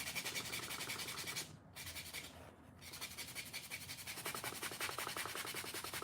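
A nail buffer rubbing across acrylic nails, a close, dry, rhythmic scrubbing that pauses twice briefly and then resumes in fast even strokes, with no talk.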